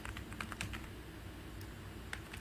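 Fast, steady clatter of a computer keyboard as code is typed, close and fairly soft with irregular key clicks and a few louder taps, no talking.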